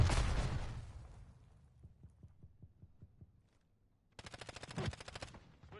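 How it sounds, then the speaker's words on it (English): Gunfire in a military multiplayer shooter video game: a dense burst at the start, then a run of evenly spaced muffled shots, and a rapid loud automatic burst near the end. "Taking effective fire."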